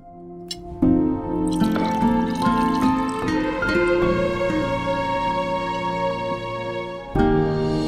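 Water pours from a vessel into a glass or cup at a meal, a continuous trickling fill with rising tone that pauses briefly and then resumes near the end.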